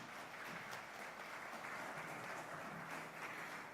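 Steady, dense applause from a conference audience at a business session on building a greener economy, a continuous even wash of clapping with no clear pauses and fairly low in level.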